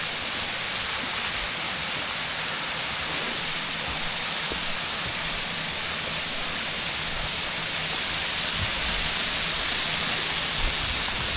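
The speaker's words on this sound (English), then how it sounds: "But this is the secret waterfall." A waterfall in Dinorwig quarry in Snowdonia roars as a steady, dense broadband rush that fills the whole stretch without a break, loud and even, with no voices over it.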